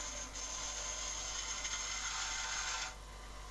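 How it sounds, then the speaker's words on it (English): A small, cheap hardware-store bench grinder runs steadily on its own, a constant high whine that drops away near the end. "Obviously I've got my grinder on"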